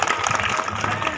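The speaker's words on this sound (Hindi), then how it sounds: "इनके लिए भी तालियों के साथ स्वागत करने का काम करेंगे" Applause welcoming a guest at a school building foundation-stone ceremony, a dense burst of crowd clapping heard up close for about a second.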